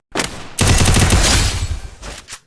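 Burst of rapid gunfire in the Free Fire mobile shooter during a drag headshot, a dense close volley lasting over a second, then a short second burst, with no talk.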